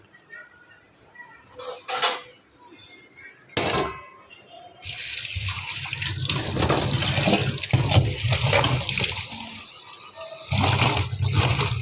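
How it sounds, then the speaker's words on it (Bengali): Running water rinsing cut taro stems in a kitchen, starting with a few short splashes and then settling into a steady, loud gush with spattering, while a voice talks over it. "এখন কচুর ছড়াটা ধুয়ে নিচ্ছি"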